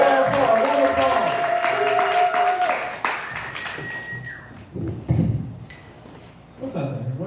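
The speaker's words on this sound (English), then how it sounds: "Roll applause, roll applause." An audience at a stand-up comedy show claps for a comedian, a dense burst of applause that thins out after a few seconds as a voice begins talking.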